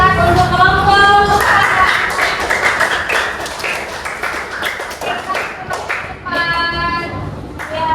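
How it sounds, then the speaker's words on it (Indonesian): A classroom group is applauded with a burst of clapping and tapping. The claps run busy and close for several seconds, dotted with voices and cheering over the top. "silakan tepuk tangan untuk kelompok"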